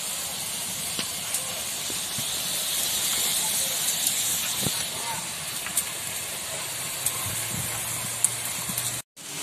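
Water poured into a pan of fried raw mango pieces for a sweet-sour chutney gives a steady, loud steam hiss that runs continuously and then cuts off abruptly near the end.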